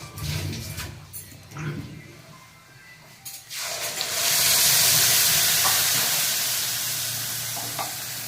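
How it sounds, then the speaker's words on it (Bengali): Cumin seeds dropped into hot oil for tempering a Bengali banana-flower curry, erupting into a loud, steady sizzle and hiss after a few quieter stirring clatters, continuing close and strong to the end. "আমি জিরে ফোড়ন দেব, জিরা 1 চামচ দিয়ে দেবো।"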